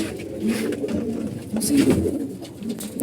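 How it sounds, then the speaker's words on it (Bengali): A pure banja (barren) pigeon coos in low, throaty rolls close by, with a person talking over the calls. "এটা কিন্তু একটা পিওর বাঞ্জা কবুতর"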